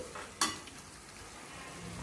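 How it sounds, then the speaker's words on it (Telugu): Onion and green chili pieces fry in hot oil, a steady soft sizzle running close throughout with one brief sharp clatter early on. "ఆయిల్ హీట్ అయిన తర్వాత ఇలాగ ఉల్లిపాయ ముక్కల్ని, పచ్చిమిరపకాయ ముక్కల్ని ఎర్రగా వేయించేసుకుంటున్నాను."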